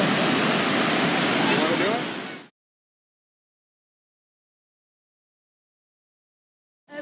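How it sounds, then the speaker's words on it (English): Niagara Falls roars from about 50 feet away, a loud dense wash of water noise for two seconds before cutting to silence, with a brief return at the end. "We are like 50 feet away from Niagara Falls."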